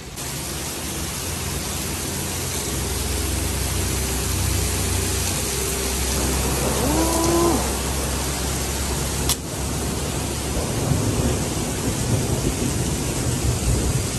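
Heavy rain and a thunderstorm roar at a gas station, with a dense, continuous downpour, a low rumble of thunder and a brief tonal whine partway through, all loud and close with no talking.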